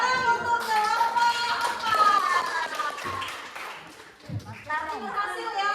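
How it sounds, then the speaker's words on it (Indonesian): Children clap for a group in a classroom, a quick burst of rhythmic claps mixed with young voices chattering and calling out, trailing into a few scattered claps. "Tepuk tangan untuk kelompok"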